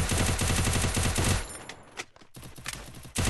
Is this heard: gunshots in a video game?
yes